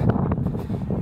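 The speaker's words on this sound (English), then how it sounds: "Probably can't really hear much because it's windy." Gusty wind buffets the microphone outdoors on a farm, a steady low rumbling roar with fluctuating loudness throughout, no voices.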